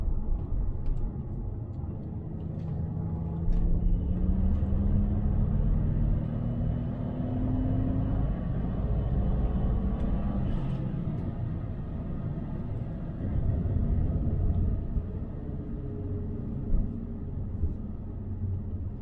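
Saab 9-3 Turbo X accelerating on a test run, a low steady engine rumble with rising tones as it pulls through the gears, heard from inside the car with no talking.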